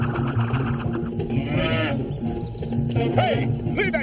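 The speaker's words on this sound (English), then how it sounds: "Hey, leave that cow alone!" A cow moos loudly and close, several drawn-out bellows over continuous farm background noise, with no speech.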